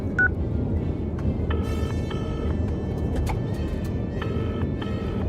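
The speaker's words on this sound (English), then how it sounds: "Speed dial. Speed dial." Phone keypad speed-dial tones beep in quick bursts of paired electronic notes, two separate runs, over the steady low rumble of a taxi heading out of London.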